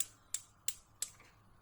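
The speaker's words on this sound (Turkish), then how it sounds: "Ocağımızın altını yakıyoruz." A gas stove burner's igniter clicks three times in quick, even succession beneath a milk pudding pot in a home kitchen, each snap crisp but quiet against a near-silent background.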